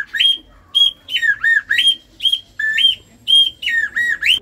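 Totocuic, a Salvadoran whistle instrument, imitating the song of the dichoso fui bird: a loud, close series of short, bright whistled phrases with sliding pitch, repeated about a dozen times with brief gaps, no voices.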